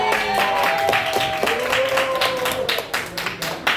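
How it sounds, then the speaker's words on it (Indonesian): A classroom of students claps for a classmate, the scattered claps mixing with voices talking over them at close range throughout. "Kita beri tepuk tangan buat Nabila."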